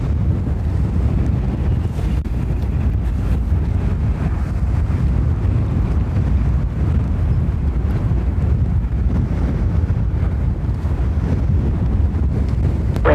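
Strong wind buffets the microphone at Dublin Airport, a loud, steady low roar of gusty rumble running the whole time with no break and no voices.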